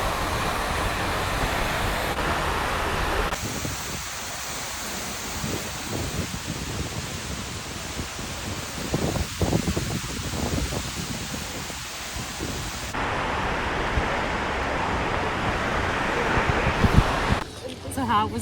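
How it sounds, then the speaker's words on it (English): A roaring Icelandic waterfall in strong wind, a constant broadband rush with gusty buffeting against a nearby microphone throughout, under occasional voices. "we are next to the waterfall. It's very windy, watery."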